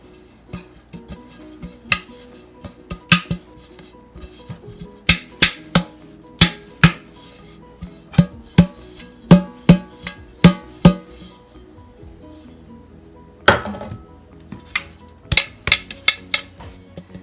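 Two 10-inch round metal cake pans clatter and clank repeatedly, sharp irregular knocks and taps close up, with short pauses between bursts of handling.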